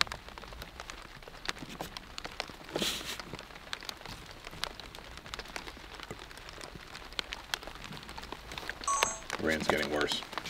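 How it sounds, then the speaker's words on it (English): Rain patters steadily on a campsite with scattered sharp drops hitting a surface, a faint background hiss throughout, and a few brief louder bursts and a beeping near the end. "Rain's getting worse."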